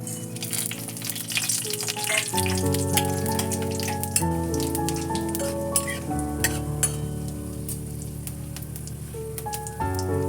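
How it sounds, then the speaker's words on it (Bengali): Whole cumin, whole garam masala, bay leaves and dried red chillies sizzle and crackle in hot oil, the start of a mutton keema, as a steady frying hiss with scattered pops under background music. "তেল গরম হয়ে গেছে এবার এর মধ্যে আমি এই ফোড়নগুলো দিয়ে দিচ্ছি সাদা জিরে একটু গোটা গরম মশলা আর তেজপাতা শুকনো লঙ্কা"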